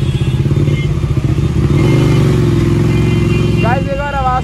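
Loud motorcycle engine on a highway, a steady throaty exhaust drone with rhythmic pulsing, rising slightly in pitch, with a brief voice-like tonal sound near the end.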